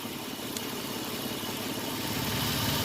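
A car engine, started by hotwiring without a key, idles steadily and fairly loud with a constant rumbling drone and no talk.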